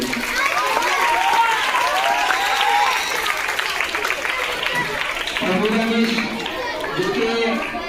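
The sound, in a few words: audience applause for Nasir sir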